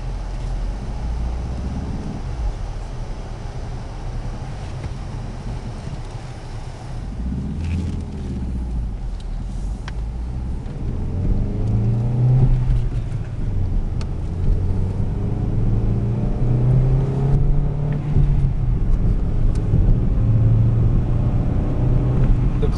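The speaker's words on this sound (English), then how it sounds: "Clutch is very smooth and it shifts through all the gears very easily without any kind of grinding." Steady engine and road rumble from a 2006 Hyundai Tiburon GS coupe with a 2.0 four-cylinder and five-speed manual while it drives, the pitch rising and falling with gear changes and some cabin noise over the drone.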